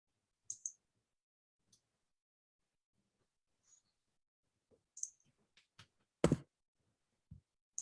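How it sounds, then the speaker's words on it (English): Sparse, faint clicks of typing on a computer keyboard during a remote county commissioners' meeting come in scattered single taps and short clusters with long quiet gaps between them. "But she's typing her input right now."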